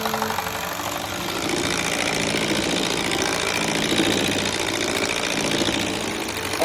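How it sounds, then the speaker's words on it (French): Electric hand mixer whipping very cold cream for a lemon and berry trifle, a steady buzzing motor whir with a slight rattling texture running throughout, close and even. "on va commencer à battre avec un batteur électrique"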